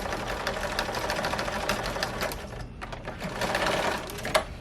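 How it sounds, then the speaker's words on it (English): A sewing machine runs a straight seam on a curtain drape, backstitched at top and bottom, making a fast steady mechanical chatter with a short pause partway through. "we're just gonna sew a straight line down here from the very edge here down to this bottom seam"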